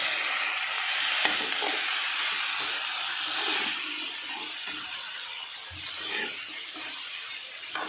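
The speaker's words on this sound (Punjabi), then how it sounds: "ਥੋੜੀ ਦੇਰ ਇਹਨੂੰ ਅਸੀਂ ਫਰਾਈ ਕਰਕੇ" Eggplant and potatoes with tomatoes frying in a pan, a continuous close sizzle and hiss with occasional stirring scrapes and soft knocks, no talk.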